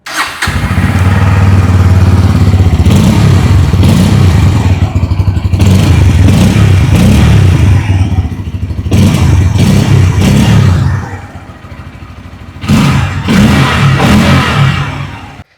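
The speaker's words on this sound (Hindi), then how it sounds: "आइए अब सुन लेते हैं इस बाइक की एग्जॉस्ट नोट।" A 2026 Bajaj Pulsar N160 160cc motorcycle engine revs hard and loud up close, rising and falling in repeated bursts, dropping briefly to idle before another throttle blip.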